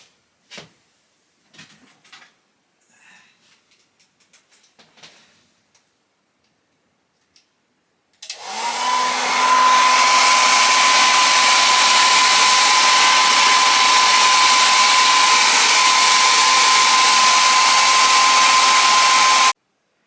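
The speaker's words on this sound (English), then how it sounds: "I think I could put my hairdryer on it to speed it up" A few quiet ticks and clicks, then a hair dryer switches on and blows loudly and steadily with a constant whine until it cuts off.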